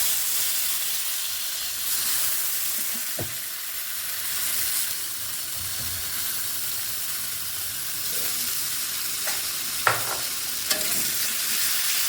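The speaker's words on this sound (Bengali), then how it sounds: "এখানে গোবিন্দভোগের চালগুলি একটু ভেজে নেব, বেশি না, অল্প একটু ভেজে নেব।" Gobindobhog rice fries lightly in a pan with a steady soft sizzle and hiss, broken by a few faint clinks of stirring near the end.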